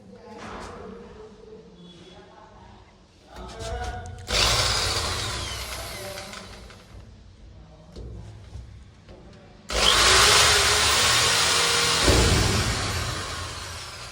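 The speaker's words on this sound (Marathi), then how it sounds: "Drill mission hole पाडायचेत. तर आता पाडा लागली बघा" A power drill whines in loud bursts as it bores into material, with quieter pauses between runs and faint voices in the background.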